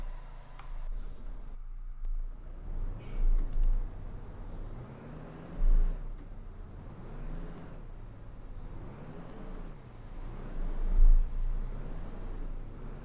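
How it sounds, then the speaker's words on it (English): A bus in the OMSI 2 driving game strains to accelerate on ice. Its low engine rumble labours in slow, rising and falling surges, with occasional hiss and clunks, heard fairly quietly and without talk. "I can hear the bus struggling"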